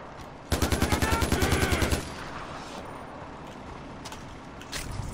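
A rapid burst of automatic gunfire in the Far Cry 4 shooter game, a dozen or so loud evenly spaced shots over about a second and a half, then quieter game ambience.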